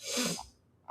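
A single short sneeze bursts out close and fairly quiet, followed by a faint breath after a brief pause.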